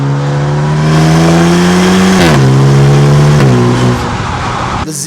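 A 2025 Maserati Grecale with a four-cylinder engine and ZF eight-speed gearbox accelerating hard, loud and close, its steady rising drone broken by two quick upshifts before it cuts off near the end.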